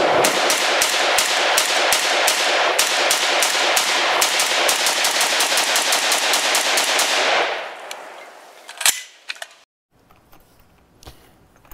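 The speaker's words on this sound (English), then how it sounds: "in the past we've shot the Bren 2, so here's some older footage just for fun" Rapid semi-automatic gunfire from a CZ Bren 2 rifle, a long string of sharp, evenly spaced shots fired outdoors, loud and close, ending with a few scattered handling clicks and near silence.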